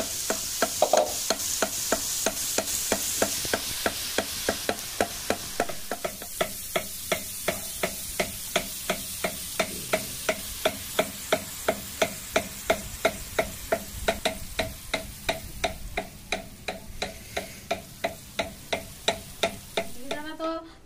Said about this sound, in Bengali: মিহিদানা গুলো এরকম করে ভেজে নিচ্ছে, এরকম করে সব মিহিদানা কটা ভেজে নেবে